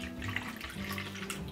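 Water pours steadily into a self-watering planter pot, a soft continuous splashing trickle, quiet and close, with no voices.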